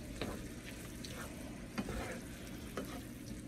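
Spoon stirring sloppy joe meat in a pan with ketchup, mustard and Worcestershire sauce, a quiet steady sizzle with a few soft scraping strokes at regular intervals.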